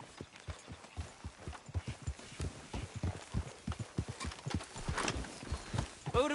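Horse hooves clip-clop in a steady, quick gait under a rider in the Western video game Red Dead Redemption 2, the beats close and clearly spaced, with faint outdoor ambience and no talking.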